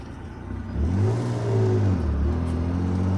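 A Fiat Dino Spider with its Ferrari engine accelerates at low revs after carburettor accelerator pump work, a steady mid-pitched engine drone rising smoothly, heard from inside the car with road noise.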